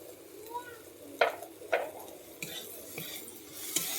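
Ground cumin and coriander spices sautéing in a pan for a prawn and mushroom curry, with a low steady sizzle broken by a few sharp scrapes and clinks of a spoon stirring against the pan.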